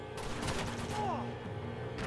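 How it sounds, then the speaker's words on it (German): A machine gunner opens fire in Uncharted 2, a rapid burst of gunfire over constant game ambience and a low hum, fairly close and moderately loud. "Ah, natürlich schießt er los."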